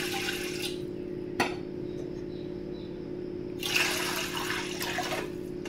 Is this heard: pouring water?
yes